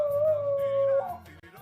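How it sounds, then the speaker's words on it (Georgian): A dog gives a single drawn-out, tonal howl close by, holding a steady pitch for about a second before breaking off into a rougher trailing whine. "ძაღლმა ყეფად დაიწყო"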